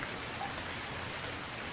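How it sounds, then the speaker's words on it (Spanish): Steady rain falls in a dense, even hiss, moderately distant and unbroken, with no clear thunder and no voices. "en cuanto empezó a llover y cayeron los relámpagos"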